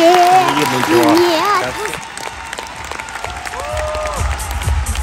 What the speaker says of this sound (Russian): Ваши аплодисменты, Мария Зайцева!